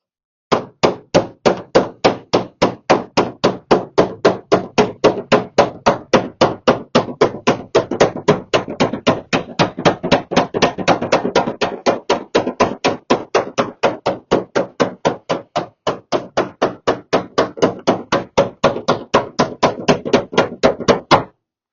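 Hammer blows against a dolly straighten a dent in steel car body panel, a long run of loud, evenly spaced metallic strikes close by, some stretches slightly faster, with no talking.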